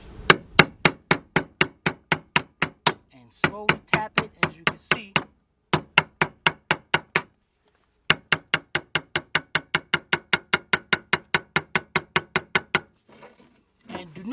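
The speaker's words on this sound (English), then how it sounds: "set the pry bar right on one of the edges right there. Get you a hammer." Steady rhythmic metal tapping, a hammer lightly striking a pry bar against a plastic ring during a 2001 Lincoln LS fuel pump replacement, in quick even bursts with short pauses between runs.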